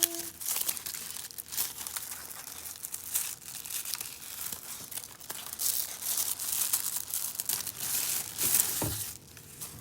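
Crinkly packaging for washi tape in a stationery box is opened by hand, with steady close crumpling and rustling and a few sharp tearing bursts.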